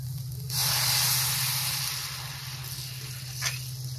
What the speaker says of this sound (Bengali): চালগুলো ভাজা ভাজা হয়ে গেছে, এখন এর উপরে গরম জল দেব